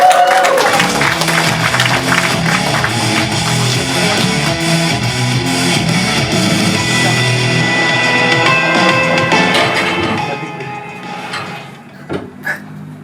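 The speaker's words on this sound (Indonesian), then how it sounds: "Langsung saja beri tepuk tangan yang meriah untuk Hari Hartanto." Audience applause and crowd noise at a stand-up comedy show as a comedian is introduced, loud and sustained with music underneath, fading out near the end.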